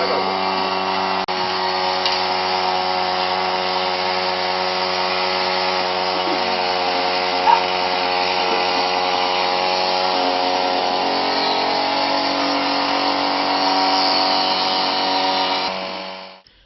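An electric machine processes a mixture of boiled plant seeds and sodium hydroxide for biogas production, giving a steady, even mechanical hum with a whine that runs unbroken for the whole stretch before winding down at the end.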